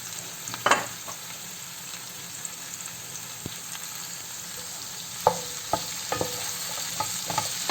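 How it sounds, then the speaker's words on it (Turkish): A steady sizzle of chopped mushrooms frying in a hot pan, with occasional soft clicks and scrapes from stirring. "Şimdi doğramış olduğum mantarlarımı ekliyorum."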